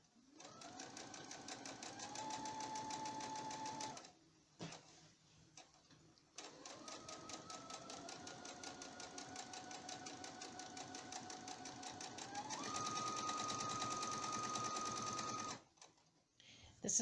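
A sewing machine top-stitches close to the edge of a Christmas apron, catching a label in the seam, in long steady runs of fast rhythmic whirring that stop briefly twice before resuming, close and clear with no talking.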